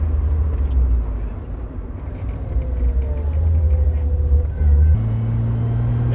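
A 1977 Toyota Celica RA28 drives along with leaking differential and gearbox seals, giving a loud, steady road and engine drone in which thin high whining tones rise and shift with the throttle.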